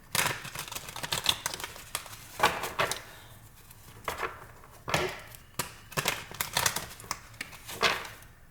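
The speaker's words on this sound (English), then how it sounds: "let's get a couple more shuffles in" Tarot cards are riffled and shuffled in repeated quick bursts of papery flutter and slapping taps, close by, with short pauses between shuffles.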